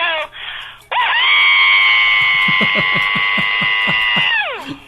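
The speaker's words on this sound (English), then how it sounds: "give us a scream" A long, loud, high-pitched scream from a woman holds steady for several seconds before trailing off, with a brief voice and rapid clicking underneath.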